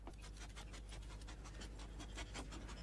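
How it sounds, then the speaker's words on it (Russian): A dog pants steadily and rapidly close by, quick rhythmic breaths continuing throughout with no talking. "Совсем глупый пес."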